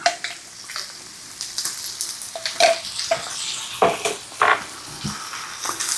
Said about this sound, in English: I'm going to add some garlic to it, just 1 spoonful of garlic.